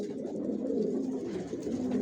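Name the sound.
racing pigeons cooing in a breeding loft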